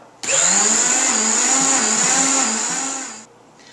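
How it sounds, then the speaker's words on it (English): A Vitamix blender grinds coconut chips into a coarse flour, running as one loud, steady whir for about three seconds before cutting off abruptly. "we've blended that down, and I was using the tamper there just to make sure that it all gets really well ground"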